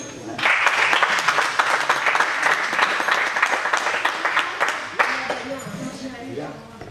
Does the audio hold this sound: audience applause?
yes